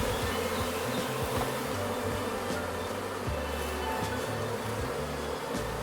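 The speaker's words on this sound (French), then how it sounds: "Il y a quelques abeilles qui battent le rappel." Honeybees buzzing steadily around a small swarm near a queenless hive, a dense, continuous hum with individual bees passing close, no talk.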